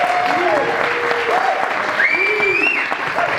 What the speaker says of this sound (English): big round of applause for the Dan Dale